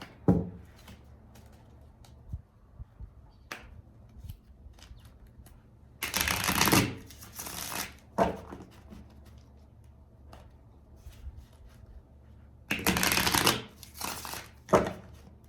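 Tarot cards being shuffled in a few bursts of crisp riffling, separated by quieter clicks and taps, close and without speech.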